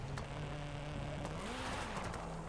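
A modified Toyota AE86 car engine in Forza Horizon 5 hums continuously with a slight rise and fall in pitch, with sharp crackling pops from the anti-lag turbo now and then.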